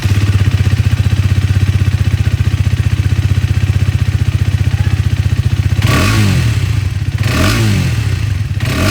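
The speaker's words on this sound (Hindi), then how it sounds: "तो ये दोस्तों आप लोगों ने यहाँ पर जो एग्जॉस्ट साउंड है वो भी सुन लिया है" A 250cc motorcycle's exhaust idles with a steady, close, loud low thrum, then is blipped twice in sharp revs near the end, with no talking.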